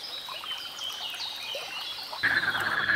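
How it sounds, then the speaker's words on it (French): Toads croaking in a forest beside a stream, a soft guttural chorus under steady high insect buzz, growing louder and denser in the final second. "Le chant guttural des crapauds"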